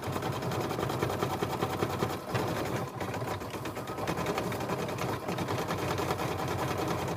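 An embroidery machine stitches white thread onto lemon shapes on a mini quilt, a fast, steady mechanical rattle of needle strokes running close and continuous with only brief dips.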